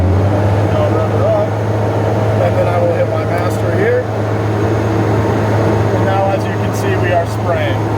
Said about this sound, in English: I'm going to start to rev up my engine here and begin spraying